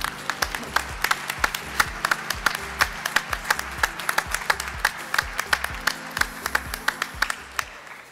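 Spectators at a dressage event clap for a horse performing passage work, producing sharp, evenly spaced claps in a steady rhythm alongside hoofbeat-like thuds, with a faint crowd murmur beneath.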